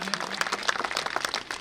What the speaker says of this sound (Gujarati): જ્યારે સ્વાગત કર્યું આપણે જોરદાર તાળીઓથી આપણે વધાવીએ.